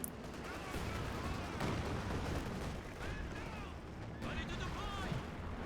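Artillery barrage in a real-time strategy game, with continuous rumbling booms and scattered blasts layered under steady commentary talk throughout.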